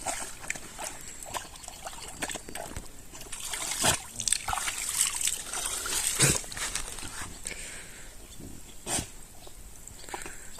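Irregular splashing and sloshing of water as a dog moves about in a pond, with trickling and dripping between bursts, heard from a short distance.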